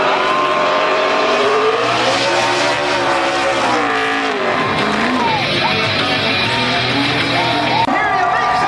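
NASCAR Xfinity Series race car running the front straightaway at Watkins Glen, engine roaring loud and continuous with shifting pitch, tire squeal and crowd noise, and an announcer talking over it.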